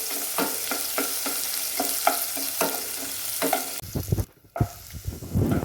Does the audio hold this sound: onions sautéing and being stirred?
yes